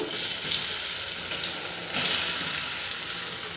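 Marinated paneer pieces frying lightly in a little oil over a low flame, a steady soft sizzle and crackle that runs throughout at an even level, with no talking.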